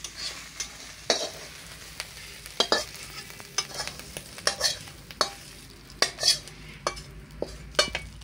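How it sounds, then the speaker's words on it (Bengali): Fried spice mixture being stirred into a pot of khichuri, a series of irregular spoon knocks and scrapes against the pot over a faint, low simmering hiss. "এবার খিচুড়ির সাথে ভালো করে মিশিয়ে দেবো"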